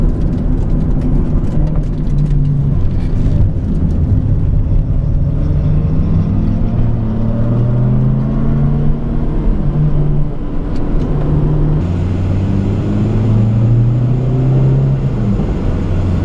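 A 1992 Toyota Starlet GT Turbo engine drones steadily from inside the cabin, its pitch rising and falling as the driver shifts through gears, loud and continuous with no talking.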